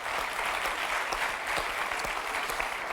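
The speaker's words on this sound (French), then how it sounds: "On peut quand même applaudir très fort Karine qui a joué le jeu." A French TV game show studio audience claps steadily and loudly throughout, a dense, continuous wash of applause with no pauses.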